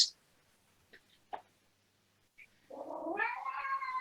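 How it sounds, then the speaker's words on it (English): A house cat makes a couple of faint clicks and small noises, then gives one drawn-out, wavering meow near the end. The meow is fairly close and heard alone. "That was the cat."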